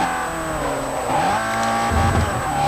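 A race car in Forza Motorsport 4 drops through gears, its engine blipping and revving high with rising and falling tones, loud and close, with a brief rumble of tires near the end.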